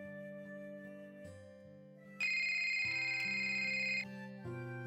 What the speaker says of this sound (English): Her phone suddenly rings when we're messing around.